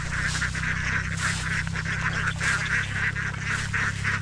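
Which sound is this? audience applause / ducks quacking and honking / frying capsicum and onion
ducks quacking and honking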